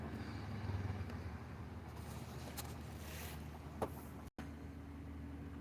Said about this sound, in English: You can hear the fucking traffic, dude.